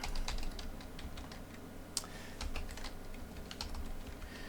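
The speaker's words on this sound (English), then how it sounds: "And I'll type in monitors." Rapid, light keystrokes clatter on a computer keyboard in a quiet room, a steady run of taps with one sharper keypress partway through.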